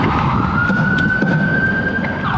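An ambulance siren on a San Diego street, a loud, close, sustained wail holding a steady high tone over traffic rumble and bits of street noise.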